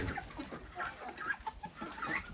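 Roosters cluck and mutter close by in short, irregular bursts among ducks on a small farm, with a little farmyard bustle around them.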